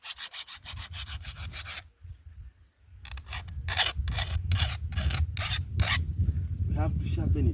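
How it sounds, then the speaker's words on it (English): Blade being sharpened with a hand file on a farm: rapid rhythmic rasping strokes, close and loud, pausing briefly before resuming in quicker bursts, with no speech. "So we have to File, that's a file."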